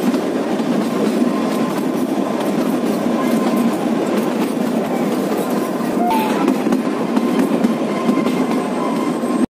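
A luxury rail motor car runs along the Kalka-Shimla narrow-gauge track with a loud, steady rumble and a faint rhythmic clatter of wheels, continuing without a break.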